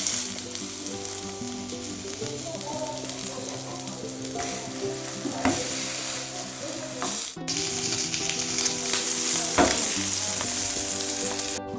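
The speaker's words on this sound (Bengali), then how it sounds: "এবার এগুলোকে হালকা করে ভেজে নেবো" Pieces of an egg dish fry lightly in oil in a pan, a steady close sizzle with occasional stirring bumps, rising a little louder toward the end.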